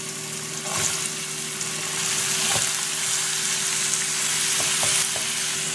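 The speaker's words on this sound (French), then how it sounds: "Ensuite, je vais faire revenir tous les légumes." Mixed vegetables fry in olive oil in a pan, giving a steady, close sizzle. Occasional utensil knocks sound as they are stirred, over a faint constant hum.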